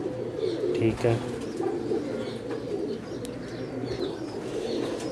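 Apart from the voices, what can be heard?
teddy pigeons cooing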